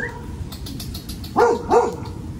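Two sharp barks from dogs ring out near a riverside, close and loud, coming one after the other above steady outdoor background noise, with no talking.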